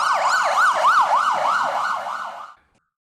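An ambulance siren wails in a steady, rapid rising-and-falling cycle, loud and close, with no voices, then cuts off abruptly after about two and a half seconds.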